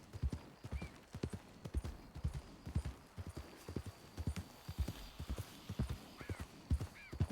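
Horse hooves clip-clopping in the video game Red Dead Redemption 2, a steady close rhythm of footfalls with a couple of brief whinny-like snorts, no talk over it.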